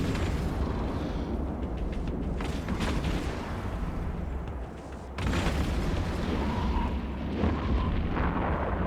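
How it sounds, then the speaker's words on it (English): Rockets fired from a spaceship in EVE Online burst in heavy, rumbling space-combat explosions, layered continuously with a brief dip midway before the booming resumes. "My rockets will take care of it."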